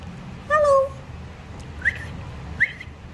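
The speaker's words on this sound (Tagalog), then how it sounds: "It's a parrot." A pet parrot gives a short whistled call followed by two brief, sharp chirps spaced about a second apart, moderately loud and close, against a quiet indoor background.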